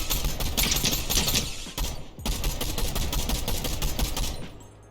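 Rapid automatic gunfire in Fortnite aimed at an enemy, dense bursts of shots in two long strings separated by a brief pause, loud and close with no talk.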